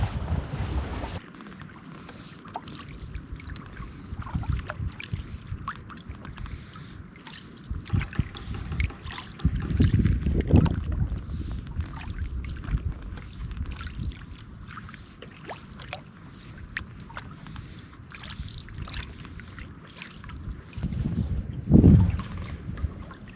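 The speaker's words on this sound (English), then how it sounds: "we are going to troll to the other side of the lake and then maybe go cast out of the wind for a bit" A boat trolls across a lake in blustery wind, with steady low rumble and wind buffeting the microphone throughout, louder gusts around the middle and near the end, with faint water lapping and no talk.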